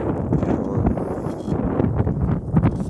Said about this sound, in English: You know it windy right now, so you guys probably hardly hear what I say